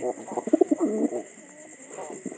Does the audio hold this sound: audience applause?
no